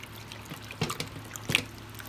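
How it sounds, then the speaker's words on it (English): Half a cup of water poured into a crockpot for stroganoff, two short close splashing pours separated by a brief pause in a quiet kitchen. "so I'm just gonna add the 1/2 cup of water"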